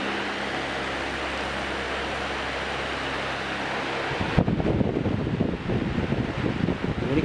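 A Vanco 18-inch industrial wall fan runs with a steady, loud whooshing hum; about four seconds in the sound shifts to a rougher, more buffeted airflow as if the fan turns toward the microphone or changes speed.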